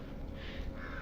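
Several crows caw over a steady outdoor background in a hill setting in Himachal, their calls loud and overlapping as a flock gathers nearby.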